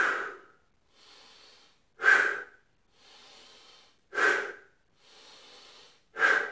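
Deep, loud breaths during a home workout: three strong inhales or exhales, roughly two seconds apart, each followed by a softer, hissier breath, with no talking.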